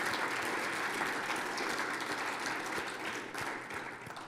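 Audience applause at an engineering awards ceremony, a thick continuous patter of many clapping hands that holds steady and fades a little near the end.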